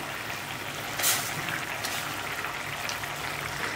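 Gentle bubbling and simmering of fish curry in a pot, a soft steady hiss with small pops, no talking.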